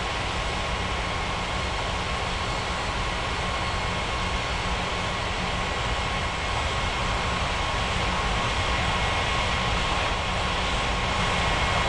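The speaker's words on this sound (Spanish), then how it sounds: "Aeroméxico 6365, iniciando despegue por la 17." An Aeroméxico jet begins its takeoff roll on runway 17 at Guadalajara airport, a loud, steady, broadband engine roar sustained throughout with no talk.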